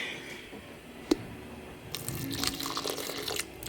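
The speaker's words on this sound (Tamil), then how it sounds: "தண்ணி கொஞ்சம் விட போகிறேன்னு" Water is poured into a bowl of ground paste for a paneer gravy, a soft splashing pour that starts midway and runs to the end after a quiet kitchen lull and a small clink.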